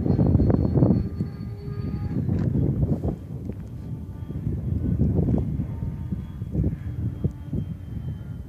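An F-15 EDF model jet flies past with a smooth ducted-fan whine that rises and fades, mixed with wind rush on the microphone.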